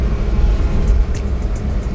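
A Suzuki DA64V van, automatic 4x2, pulls forward under acceleration with a steady low engine drone and road rumble, close and continuous, with no voices over it.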